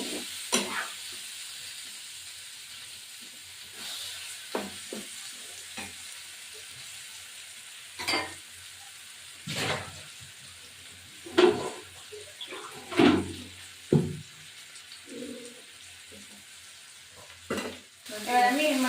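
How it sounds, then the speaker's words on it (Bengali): Fish curry of katla and potato sizzles and fries quietly in a pan while a spoon stirs it in intermittent scraping strokes, the soft hiss continuing between them. "একটু নাড়া দেবো।"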